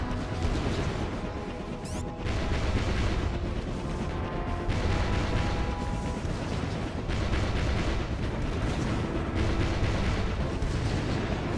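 Artillery fire in the Battalion Wars 2 video game, a dense and continuous roar of heavy booms and crashes that stays loud throughout with no clear gaps between blasts.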